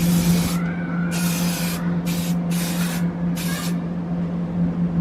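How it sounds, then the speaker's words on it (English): Aerosol spray primer hissing onto TIE Fighter model diorama parts in five short bursts of varying length, close and fairly loud over a steady low hum. "We'll start again by priming the diorama parts."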